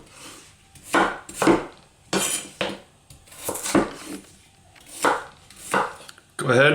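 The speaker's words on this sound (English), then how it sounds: "Go ahead, cut it right in half, then in half again, and then just quarter it" A knife chops potatoes into quarters on a cutting board, with a series of sharp, close chopping strokes in irregular bursts, each cut sounding alone without any talk.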